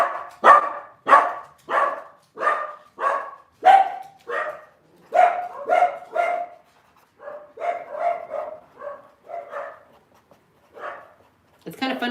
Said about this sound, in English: What is all this barking for?